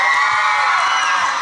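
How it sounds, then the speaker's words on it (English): An audience at a school eco-fashion pageant cheers for a candidate, a sustained loud wash of crowd shouts and whoops with children's voices mixed in. "A cheer for candidate number five."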